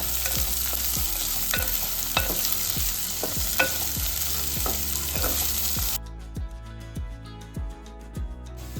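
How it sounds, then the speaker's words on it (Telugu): Onions frying in a pan for a mutton curry, with a steady loud sizzle and regular stirring scrapes, after which the hiss cuts away and the rhythmic stirring continues more quietly. "ఉల్లిపాయలు కూడా వేసుకుని బాగా రంగు మారేదాకా వేసుకోవాలన్నమాట"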